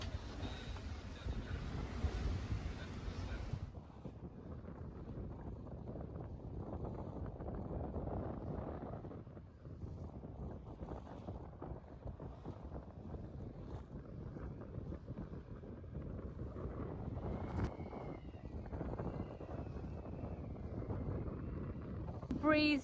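A sailboat running fast in 14 knots of breeze, making 7 to 8 knots through the water: steady rushing wind buffeting the microphone over the broad wash of water along the hull, with a few brief voices.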